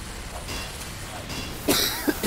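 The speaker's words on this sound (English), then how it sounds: "Sorry for coughing." Two or three short coughs from a person with a cold, close to the mic over a low hum of game sound during a Team Fortress 2 match on the 2Fort map.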